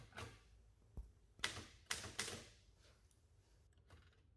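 A 1908 Remington 7 typewriter's tabulator mechanism gives a few sharp mechanical clacks and snaps, spaced irregularly and fairly quiet, with no voices.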